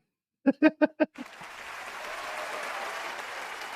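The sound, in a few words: applause for Masood bhai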